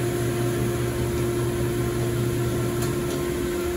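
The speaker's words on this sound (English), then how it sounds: "I want to turn off the sander, wait for it to come to a complete stop." An electric wood sander runs steadily with a continuous loud whir and motor hum, close by and unbroken throughout, with no talking.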